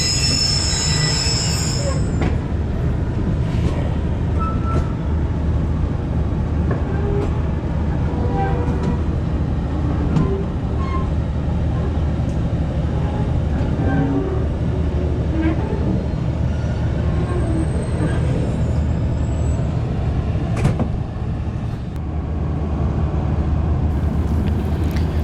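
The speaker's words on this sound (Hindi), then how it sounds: "वन अप खैबर मेल ने डिपार्चर शुरू कर दिया" The 1 Up Khyber Mail passenger train pulls away from a Pakistani station, loud rumbling wheels and squealing rail contact rolling steadily close by, with faint background voices.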